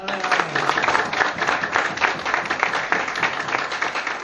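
An audience at a motivational seminar claps on request, with a burst of dense, rhythmic applause heard fairly loud and close throughout.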